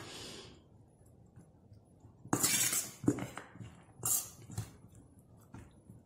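A quinoa and black bean salad being stirred in a bowl, giving a few loud clinking scrapes of a utensil against the dish in short bursts over a quiet background, with no talking.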